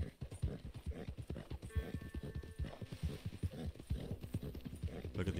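A horse in Red Dead Redemption 2 trots on through mountain country, its hooves clopping in a quick, unbroken rhythm up close, a brief whinny rising midway and a voice murmuring underneath.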